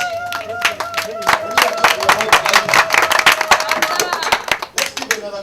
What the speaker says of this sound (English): Let's give another clap. A big one.